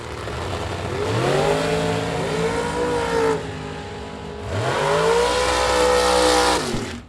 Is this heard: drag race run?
yes